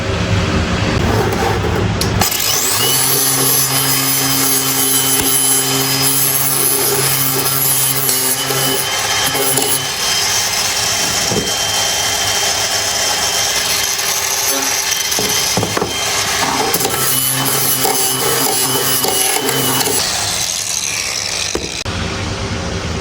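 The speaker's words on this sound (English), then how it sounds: "we're just gonna use a flap disc to deburr these holes that we drilled out" An angle grinder with a flap disc roars loudly and continuously, deburring drilled holes in metal for over twenty seconds, its pitch wavering slightly as it grinds.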